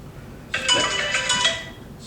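A cell phone ringtone plays clearly for about a second and a half, a bright repeating electronic tone close to the microphone during a sports interview, with no talk over it.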